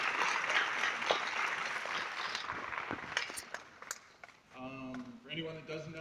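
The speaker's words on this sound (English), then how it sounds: "Give yourselves a big round of applause." An audience of students and guests at a school program applauds with dense clapping that slowly fades, and a voice speaks over the end of it.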